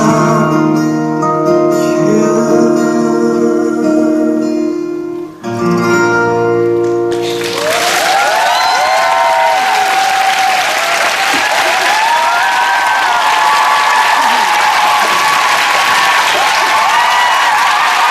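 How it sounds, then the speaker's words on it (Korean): At a televised K-pop concert taping, the closing bars of a song give way to a roaring crowd that cheers and applauds loudly, with screams layered over dense clapping that continues unbroken to the end. "함성이 정말 대단한데요."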